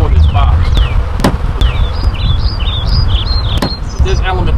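Bees buzz steadily around a wooden hive box set up to attract a swarm, a dense close hum filling the clip, with sharp chirps from birds over it and brief speech-like bursts.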